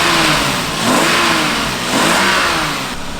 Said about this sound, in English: These motors are always smooth like that.